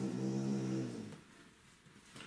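An American Staffordshire Terrier lets out a quiet, drawn-out whining growl lasting about a second, then settles into near silence with soft rustling close by.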